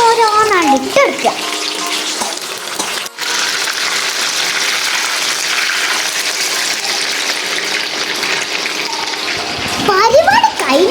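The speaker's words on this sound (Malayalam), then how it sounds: "ചൂടായ ഓയിലേക്ക് നമ്മളെ പൂവട ഓരോന്നോരോന്നാണ് ഇട്ടെടുക്കുക." Poovada dough frying in hot oil in a pan, a steady bubbling sizzle throughout with brief voices and utensil movement near the start and end.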